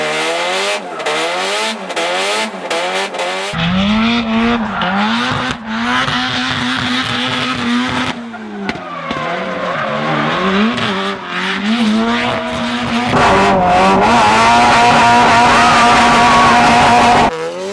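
A drifting car revs hard and swings through slides, engine wailing up and down as tires squeal in long, loud bursts, close and continuous with brief lulls between passes.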